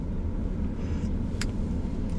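Steady low rumble inside a car, constant and even throughout, with a faint brief click partway through and no talking.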